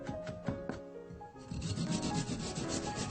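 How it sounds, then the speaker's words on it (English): A daikon radish is grated for ponzu sauce: close, rhythmic rasping strokes, a few separate scrapes at first, then a faster, denser scraping run. "Grate the daikon radish to add to ponzu sauce."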